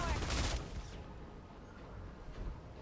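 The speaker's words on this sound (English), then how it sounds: "this is her submachine gun's ultimate skill." The submachine gun ultimate skill of the hero Beatrix in the mobile game Mobile Legends fires a loud, dense burst of rapid shots that fades into a rumbling, noisy tail.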